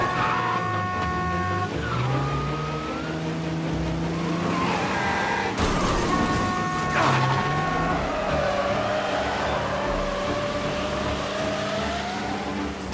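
A car in Mafia Definitive Edition skids on slippery roads and wrecks, with a sustained engine drone, long wavering tire squeals and a sudden crash burst midway, loud and close.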